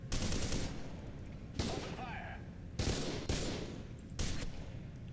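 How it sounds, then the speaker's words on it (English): Enemy gunfire in F.E.A.R. 2, heavy bursts of shots crashing in at intervals over a dense, rumbling game background, loud and close. "there's someone shooting me"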